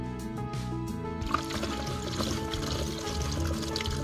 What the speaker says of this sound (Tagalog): at binubuhusan ng tubig. Check ko kung may tulo.